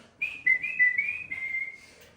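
Soft, cheerful whistling of a single sustained, wavering melody, near and fairly quiet, heard alone without talk for about two seconds.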